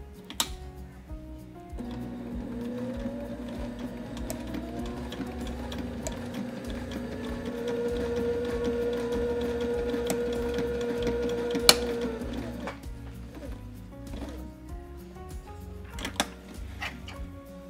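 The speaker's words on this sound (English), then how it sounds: "we're gonna be using our magnetic sewing guide for a straight stitch" A sewing machine runs a straight stitch along a hem guided by a magnetic seam guide, humming steadily for about ten seconds with a faint mechanical tick, then stopping.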